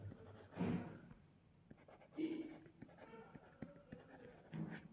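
Marker or chalk writing on a classroom board, a few separate bursts of scratchy strokes with quiet gaps between them, fairly close and with no voice over it.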